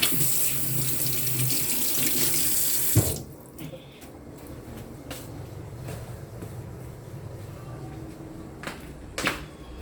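Tap water runs into a sink for hand washing, a steady rushing stream for about three seconds that then cuts off, followed by quieter room noise and small clinks.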